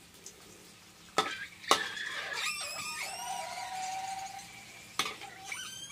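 Sausages frying in hot, spattering oil in a pan, with a steady close sizzle, sharp utensil clacks as they are stirred and turned, and a few crackling pops along the way.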